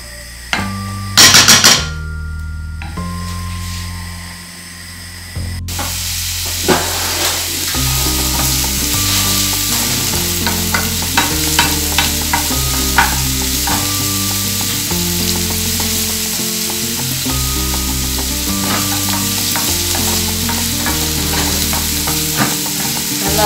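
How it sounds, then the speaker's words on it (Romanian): Carrot, onion and garlic sizzle in oil in a pan, a loud continuous frying hiss with repeated clacks and scrapes of stirring, preceded by a few brief clatters at the start. "înăbușim morcovul, ceapa cu usturoiul puțin, nu le prăjim, le înăbușim."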